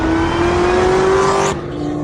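A Chevrolet Corvette C6 ZR1 engine runs loud and hard under heavy throttle with a steady high drone. It cuts off abruptly near the end, leaving a quieter hum.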